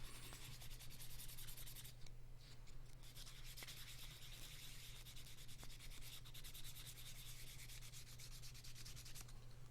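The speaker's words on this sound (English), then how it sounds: "I very quickly hand sanded with 1000 grit" Steady, continuous rubbing as a composite hybridwood knife handle with brass pins and bolsters is hand sanded with 1000 grit sandpaper, the strokes close and even throughout with no voices.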